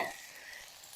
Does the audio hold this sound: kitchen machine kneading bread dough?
no